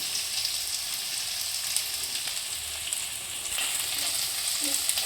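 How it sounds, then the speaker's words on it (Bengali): Chopped onions fry in a pan for a pumpkin and potato dal, giving a steady, soft sizzle with faint stirring crackles throughout and no talking. "পেঁয়াজ কুচিটা একটু লাল করে মনে ভেজে নিতে হবে।"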